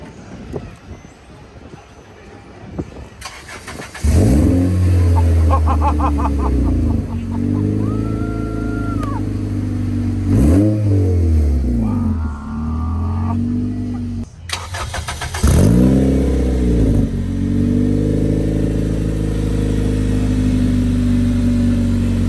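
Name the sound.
turbocharged stock Honda engine revving, 10 pounds of boost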